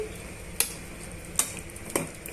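Potato and brinjal masala curry being mixed in a pan, a soft sizzle under three sharp spoon clinks against the pan at even intervals, close and fairly quiet, with no voices.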